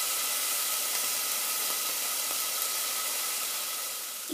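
Onions fry in a pan with a steady, close hiss that stays even throughout and has no talking over it.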